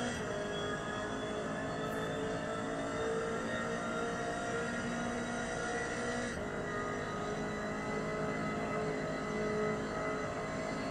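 Race car engine in Forza Motorsport 2023 during an online race, a steady loud drone of engine and road noise with a slight shift in pitch midway and no break.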